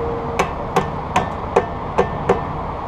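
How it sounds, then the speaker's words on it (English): Six evenly spaced metallic hammer taps drive a Brembo brake pad pin into place, close and crisp, against a quiet background hum. "let's go ahead and hammer it in"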